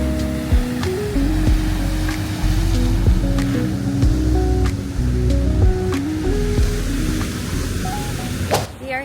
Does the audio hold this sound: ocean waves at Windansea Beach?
yes